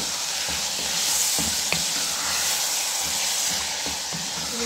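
A pan of lentils sizzles and hisses steadily as it cooks. A spoon stirs through it, and the scrapes and soft knocks come through at close range without any voices.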